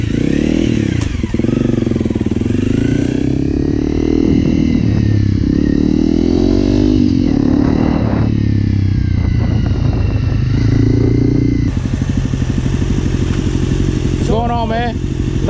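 A motorcycle engine idling and revving close by outside a Waffle House, a loud steady rumble with rising and falling pitch throughout, while people talk over it.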